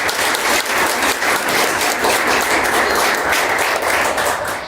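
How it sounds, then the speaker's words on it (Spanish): Loud, sustained applause from a crowd at a church service, steady and dense throughout with no voices standing out. "Dale un fuerte aplauso a la persona."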